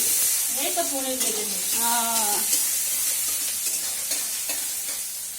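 Paneer frying and being stirred in a pan during home cooking, a steady sizzle with scraping and stirring sounds throughout, while a voice talks briefly over it near the start.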